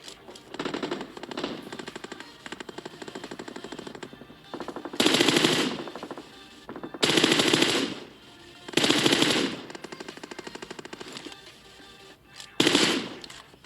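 Automatic gunfire in the PUBG video game comes in repeated long bursts of rapid, loud shots separated by brief pauses, with quieter game ambience between volleys and no talking.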